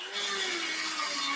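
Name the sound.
Ferm Dremel rotary tool grinding through wheelbarrow bolts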